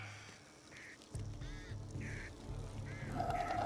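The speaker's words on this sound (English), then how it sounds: "Get away from me, birds." Birds squawk in the Back 4 Blood video game, a series of short nasal, duck-like quacks repeating every half second or so over a low game rumble, moderately loud.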